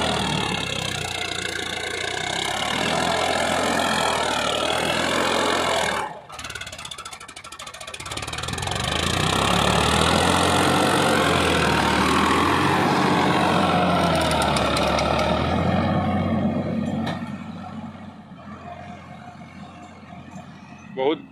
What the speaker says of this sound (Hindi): बहुत दमदार पावरफुल ट्रैक्टर है ये